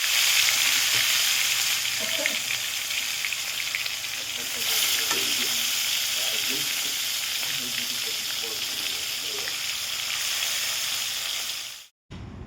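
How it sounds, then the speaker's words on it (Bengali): Fish frying in oil in a pan, a loud, continuous sizzle at close range with light clinks and stirring scrapes mixed in, cutting off abruptly near the end. "মাছটা ভাজা বসিয়ে দিই"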